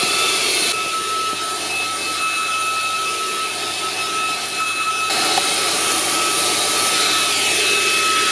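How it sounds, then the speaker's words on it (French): A Proscenic P11 stick vacuum cleaner fitted with a small brush runs inside a car, giving a loud, steady whirring drone with a high whine that holds evenly throughout, with no talking. "Et là, on va tester l'aspirateur avec cette brosse."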